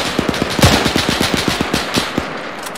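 Rapid automatic gunfire from the video game Arma 3, a loud, close, steady burst of about twenty evenly spaced shots that stops abruptly before a final sharp report.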